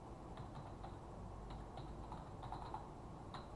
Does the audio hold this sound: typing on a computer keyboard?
yes